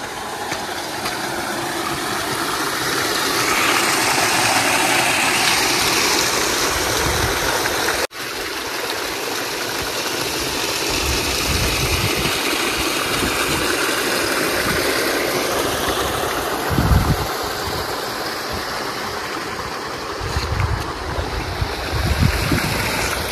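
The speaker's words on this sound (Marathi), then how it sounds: "हे पाणी वरून येतं का डोंगरातून" Mountain stream water runs down from the hills through a deep channel near a hillside Mahadev temple, a steady close rushing wash with occasional low bumps and a brief dropout partway through.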